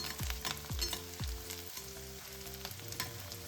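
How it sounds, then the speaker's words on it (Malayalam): A chicken roast with Kashmiri chilli and masala sizzles quietly in a pan while a spoon stirs it, giving several rhythmic scrapes and clinks over a faint background hum, close and soft, with no speech. "നന്നായി ഇളക്കി കൊടുക്കാം."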